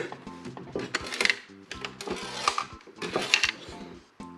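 Small loose screws rattle and clatter inside a Panasonic Q GameCube console as it is moved, giving a series of close, uneven metallic and plastic knocks and shuffles with no talking.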